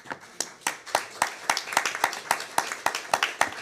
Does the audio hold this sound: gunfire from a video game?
no